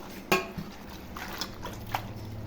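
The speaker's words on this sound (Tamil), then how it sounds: "தண்ணிக்குள்ளே போட்டு நல்லா அலசிடணும்." Neem leaves are swished and rinsed in a vessel of water for homemade soap, with a sharp clink of the container, soft sloshes and light drips, close and fairly quiet.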